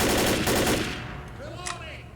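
Rapid, dense automatic fire from a minigun in the 2008 shooter Left 4 Dead rattles loudly for nearly a second, then trails off into faint game ambience and a few distant tones.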